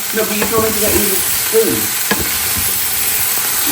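Carrots and mixed vegetables fry in a little olive oil with a steady, close sizzle, punctuated by a few clattering stirs and soft background voices.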